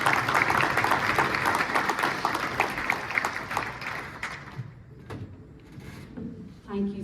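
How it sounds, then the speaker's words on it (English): Crowd applause at a Florida State football press conference announcing the 2024 Ireland game, broad clapping filling the space for several seconds before thinning out and fading into quieter room noise. "A big round of applause for Sarah Kavanaugh"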